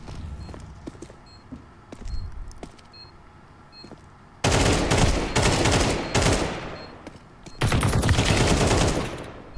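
Counter-Strike 2 gunfire starts as sparse, quieter shots and footsteps, then breaks into loud sustained automatic bursts close by, separated by a short pause.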